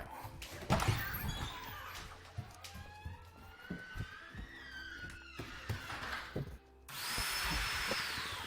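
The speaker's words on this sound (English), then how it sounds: "I'm just trying to screw on his little stubby legs here." A power screwdriver gives short whirring bursts while fastening stubby legs onto a homemade robot dog, close by among clatter, squeaky handling noises and a brief louder mechanical run at the end.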